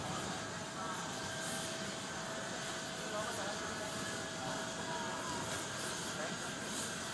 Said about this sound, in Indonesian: Sejumlah menteri yang tampak bersiap menyambut Presiden Prabowo Subianto untuk turun dari pesawat kepresidenan